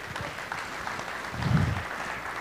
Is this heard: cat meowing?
no